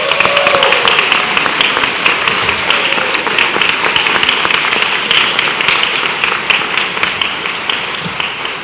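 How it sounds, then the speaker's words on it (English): A civic audience at a city address gives sustained applause for a group of students, dense steady clapping from many hands filling the room for several seconds without letting up. "give a round of applause"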